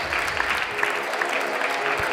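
An audience at a comedy show claps for the next comedian, a short burst of steady applause with faint crowd murmur.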